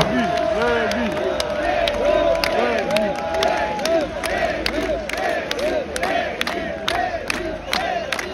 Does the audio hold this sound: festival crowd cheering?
yes